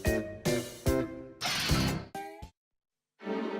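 A cartoon doorbell rings in a series of bright, tonal chime bursts, loud and close, ending in a brief silence before one more ringing tone.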